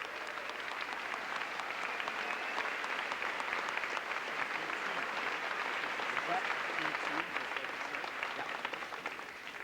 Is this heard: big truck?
no